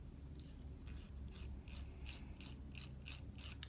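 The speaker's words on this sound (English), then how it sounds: "Now that file is going to break that vinyl loose." A nail file rasps back and forth over Jamberry vinyl nail wrap in quick, steady strokes, close but faint, with no talking.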